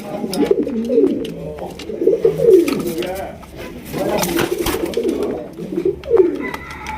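Red King pigeons cooing in soft repeated low throaty phrases throughout, close by, with some background voices mixed in.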